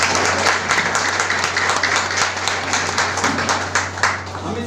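An audience at a technical party in Sheikhpura claps loudly. Individual claps stand out within the applause, which is loud and steady over a low electrical hum before thinning slightly toward the end.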